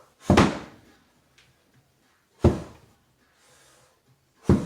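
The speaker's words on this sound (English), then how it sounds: "Pillow slams start in 3, in 2, in 1." Three heavy pillow slams land during a kneeling home workout, each a loud, close whump with a short decay, spaced about two seconds apart with quiet gaps between.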